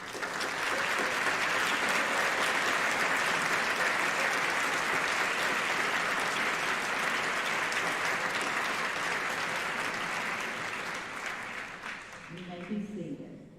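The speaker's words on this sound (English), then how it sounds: "stand for a round of applause for these exceptional" Sustained applause from a standing convocation audience honoring Honor Walk student finalists at a college Founders Day ceremony, a dense steady roar of many hands that holds strong for about eleven seconds before thinning out as a voice speaks near the end.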